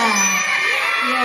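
Schoolchildren at an Indonesian school cheer and shout in a loud, dense crowd burst that holds throughout, with excited young voices overlapping.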